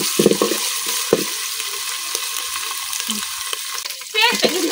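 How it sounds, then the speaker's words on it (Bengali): Onion paste frying with garam masala in a pan over a village cooking fire, a steady close sizzle with a few stirring scrapes and a brighter burst near the end. "এখন লাগে দিয়ে কিছুক্ষণ পেঁয়াজটা বাজিয়ে নিলাম।"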